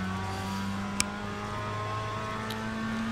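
A Mazda MX-5 engine in the iRacing game at Phoenix holds a steady high-pitched drone near the rev limiter, an even sustained whine with one brief sharp click, loud and without speech.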